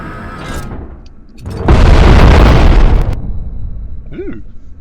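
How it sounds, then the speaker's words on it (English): A flashbang grenade goes off in a video game, a loud burst of broad noise lasting over a second after a brief rising lead-in, followed by fading ringing and faint background sounds. "Flashbang."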